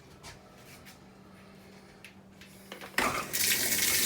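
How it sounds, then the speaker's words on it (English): Water rushes into a Whirlpool/Kenmore Series 90 washing machine after its replaced inlet valve is opened, a sudden loud, steady hiss of flow starting near the end after quiet handling noises. "We're gonna turn the water on."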